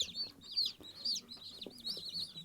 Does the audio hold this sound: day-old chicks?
yes